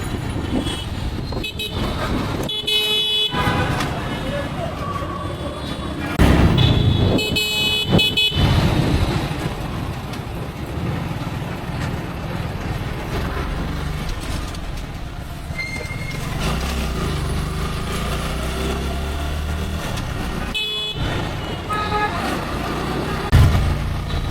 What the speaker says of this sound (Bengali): চলুন আমরা কিছুক্ষণ বাইকের আওয়াজটা শুনে আসি আমাদের বাইকের সাউন্ড কেমন দিচ্ছে